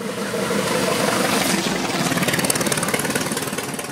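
The engine of a 1908 Mors vintage car runs steadily with a rough, chugging idle close by, a continuous mechanical rumble with no voices.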